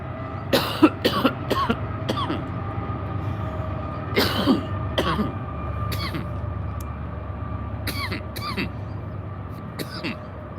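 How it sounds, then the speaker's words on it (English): A freight train pulled by three engines rolls past with a steady low rumble and clatter, overlaid by several sharp coughs or throat-clearing bursts nearby. "It's a 3-engine train, so it's probably going to be a long one."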